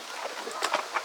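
Chickens in a coop cluck in a few short, close bursts of agitated calls over soft background rustle.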